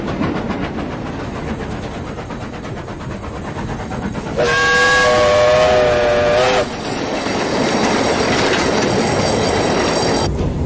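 A World War I steam troop train rumbles steadily along the rails, wheels clattering, with a sustained whistle blast in the middle before the rolling noise continues.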